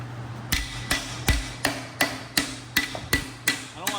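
Steady hammer blows tapping a piston out of a Ford SVT Cobra engine block, about nine evenly spaced, sharp metallic strikes, close and loud, with brief ringing after each hit.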